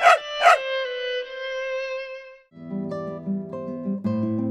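Two sharp, close dog barks ring out quickly at the start, followed by sustained melodic tones that carry on alone.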